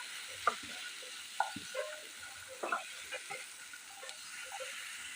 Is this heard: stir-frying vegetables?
yes